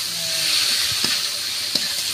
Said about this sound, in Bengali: এবার এই কড়াই পোলট্রির মাংসটা দিয়ে দিচ্ছি